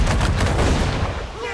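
Ship cannon fire in the naval combat of Assassin's Creed IV Black Flag, a loud, dense boom with a rumbling tail, close and dominating, with shouted voices.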